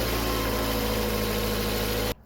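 An idling car engine in a Jeep Renegade, Dodge Dart or Fiat 500X after an alternator replacement, running in a steady loud drone close by, then cutting off abruptly near the end.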